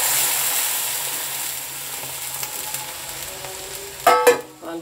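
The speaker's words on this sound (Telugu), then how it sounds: "పాలు పోసేస్తున్నాను ఫ్రెండ్స్" Milk poured into a hot frying pan where ingredients have been lightly fried, producing a loud hiss that settles into steady sizzling, then a burst of stirring or bubbling near the end, close up with no talking.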